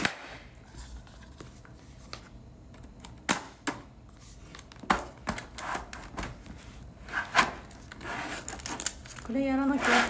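Typing on a compact keyboard paired with an iPad, heard as scattered clicky key taps in irregular bursts, close and moderately loud over a quiet room, with a voice talking faintly near the end.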